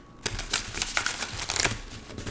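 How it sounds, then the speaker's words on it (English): A brand new, slippery deck of playing cards is riffle-shuffled up close, giving a few quick bursts of crisp, rapid flapping and clicking with short gaps between, and no voices. "you're going to watch me mangle the shuffles because it's a brand new deck and it's super slippery"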